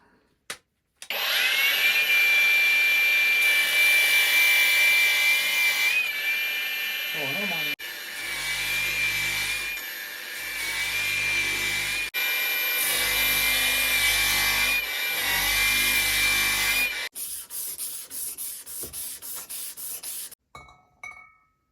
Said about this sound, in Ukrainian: спробую заплоскошліфити за допомогою цього магніта